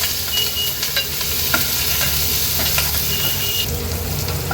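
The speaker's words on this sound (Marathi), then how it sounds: "आता कांदा छान शिजवून घ्यायचा आहे आपल्याला" Onion fries in a hot pan as it is stirred, a steady close sizzle broken by occasional scraping and clinking of the spoon against the pan, with no voices.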